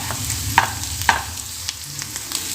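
Beaten egg fries in a pan while being mixed, with a continuous close sizzle and a few sharp spatula taps against the pan.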